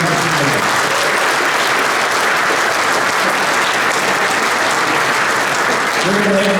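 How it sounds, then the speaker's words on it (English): A crowd at a 2023 Derby inauguration ceremony applauds loudly and continuously, a thick even wash of clapping with faint voices rising near the start and end. "So let's give a nice round of applause for the Joe Di Martino."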